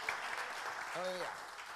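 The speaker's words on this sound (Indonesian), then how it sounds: "Beri tepuk tangan dulu buat Tuhan Yesus Kristus" Church congregation applauding during a worship service, a steady wash of clapping from many hands throughout, with a brief voice rising over it midway.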